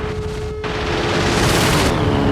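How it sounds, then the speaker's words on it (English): Bombs and rockets explode around a wartime airfield runway, making a loud, dense, rumbling roar of blasts and booms that swells and carries on without a break through the short stretch, with no voices. "Bombs and rockets exploded all around."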